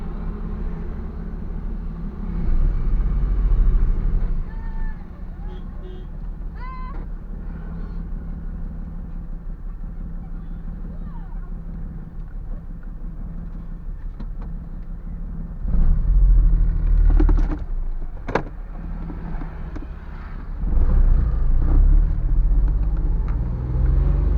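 A 1986 Maruti SS80 car drives along, its small engine giving a low steady rumble that surges louder as it speeds up and shifts through the gears, heard from inside the car without talk.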